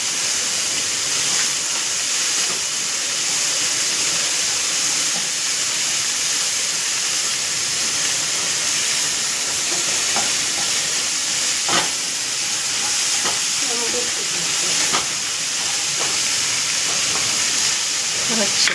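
Shallots with a pinch of salt sauté in a pan for a Kerala ulli theeyal, giving a steady broad hiss and sizzle under occasional light clinks, while someone talks over it.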